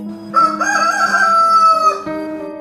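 A fighting rooster crows loudly and close by, one long drawn-out call that rises and then trails off. No voices are heard.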